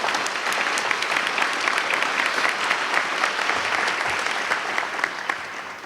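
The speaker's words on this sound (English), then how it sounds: "A little round of applause for everyone." Audience applause fills a hall at a customer service recognition event, steady dense clapping throughout that fades slightly at the end, with no talk over it.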